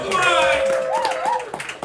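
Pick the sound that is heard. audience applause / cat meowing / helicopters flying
audience applause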